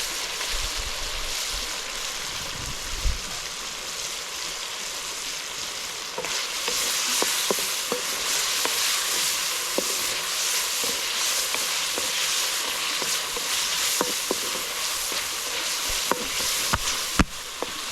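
Shrimp frying in a pan over a bamboo woodfire by a rainy river, a continuous broad hiss of frying with scattered crackles and pops, close and without talk.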